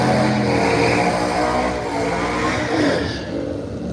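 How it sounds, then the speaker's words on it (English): A Camaro revs hard during a burnout at a drag race, a loud, sustained roar of engine and spinning tires with wide outdoor crowd noise. "Ooh, the Camaro going for it in the burnout."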